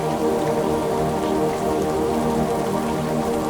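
Steady rain pours down, making a dense, even hiss of drops on surfaces that carries on unbroken at a fairly loud level.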